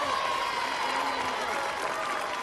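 A London Marathon crowd in 1986 cheers and claps a passing runner just after rain, a dense, continuous roar of applause and voices that holds steady throughout.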